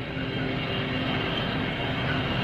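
An airplane flies in a 1970s TV commercial, heard as a steady, even engine drone that holds at the same level from start to finish with no break.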